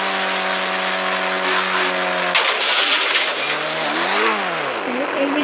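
Bike engine from the Indian Bike Driving video game holds a steady buzzing drone, then revs and shifts pitch up and down as the vehicle accelerates, loud and close with no talk.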